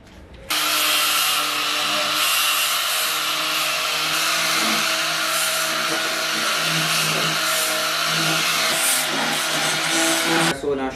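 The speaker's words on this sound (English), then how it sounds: "I'm going to use the shaving disc to sand off the excess. The rough edges." An angle grinder with a shaving disc whines continuously for about ten seconds, a loud grinding buzz with steady harmonic tones as the disc sands rough edges off metal.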